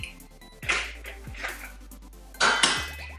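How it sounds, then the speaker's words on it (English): Eggs mixed into brownie batter in a bowl, a utensil knocking and scraping against the bowl in a few sharp clanks between quieter stirring, close up with no talking. "now you're gonna crack 3 eggs and mix all of that up"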